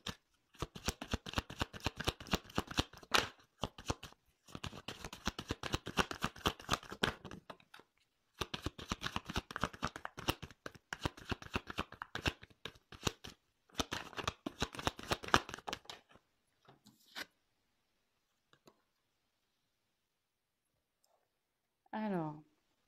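Tarot cards being shuffled and drawn by hand, a fast run of crisp riffling clicks in several bursts, close and fairly quiet, with a short voiced sound at the end.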